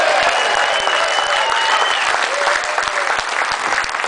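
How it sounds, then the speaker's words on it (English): An audience at the CRS Awards 2013 ceremony in Wath upon Dearne gives Fish a loud, sustained round of applause, dense clapping close by with faint voices and a few whistles mixed in. "Another round of applause for Fish."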